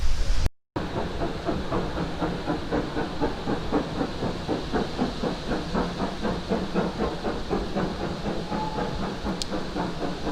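A Great Western Railway Hall class steam locomotive on the Severn Valley Railway chuffs in a fast, steady rhythm with hissing steam and rolling wheels, loud and close, continuing throughout.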